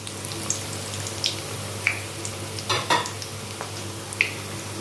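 Corn cheese balls fry in hot oil with a steady, soft sizzle, broken by occasional stirring clicks and small pops.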